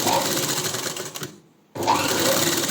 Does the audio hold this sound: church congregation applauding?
no